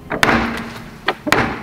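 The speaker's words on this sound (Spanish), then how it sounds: "Sonó como otra puerta a lo lejos." Door slams and thuds echo inside an abandoned village house, a few sharp knocks spaced apart in quick succession, moderately close with a faint room echo.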